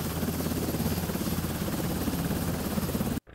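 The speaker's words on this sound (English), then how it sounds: "here I want the sound of a helicopter approach" A helicopter's rotor thumps in a steady, pulsing drone, loud and continuous, before cutting off abruptly at the end.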